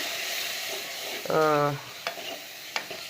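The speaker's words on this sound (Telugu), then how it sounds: "తగినంత అది ఏది మన అల్లం వెల్లిగడ్డ వేస్తున్నానండి" Ginger garlic paste frying in a pan for boti (tripe) curry gives a steady close sizzle, with a brief scraping squeal from stirring and a few light utensil clicks.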